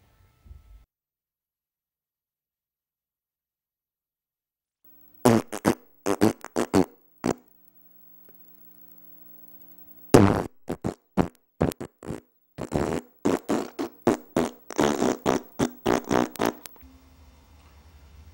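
Repeated comic fart noises burst in two loud clusters, a short run of about eight blasts then a longer, denser string of a dozen or more, separated by silence and a low hum.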